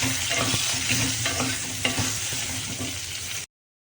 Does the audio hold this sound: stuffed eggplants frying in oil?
yes